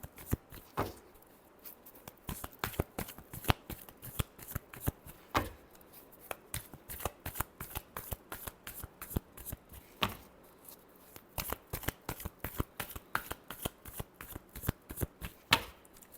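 Tarot cards are shuffled by hand in quick, crisp riffling bursts of papery flicks and slaps, close and continuous with brief pauses, with no talking.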